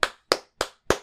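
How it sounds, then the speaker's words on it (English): Four sharp, evenly spaced hand claps ring out alone, one every third of a second, each crisp and close with a quick decay, more like a single person clapping than a crowd's applause. "So let's give a big round of applause to Bill."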